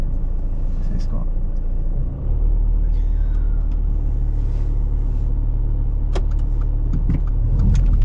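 Learner driver in a car pulling away during a driving test, a steady loud engine rumble from inside the cabin that deepens as the car moves off, with a few sharp clicks and a voice talking.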